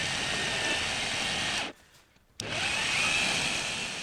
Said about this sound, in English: Now that the cue lathe is running,